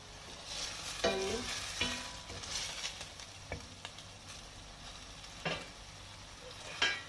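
Chicken livers sizzle quietly in a pan while a utensil stirs them, with scattered scraping clacks against the pan over a steady hiss.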